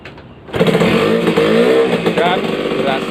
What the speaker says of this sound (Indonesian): Oke sekarang kita akan coba nyalakan. Sebagaimana tipikal motor 2 tak ya, ini akan berbunyi berisik